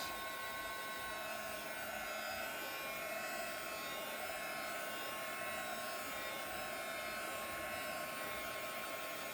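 A hair dryer runs steadily and close by, drying freshly applied ink on a wooden tree sign, a continuous whirring roar that holds level throughout with no speech.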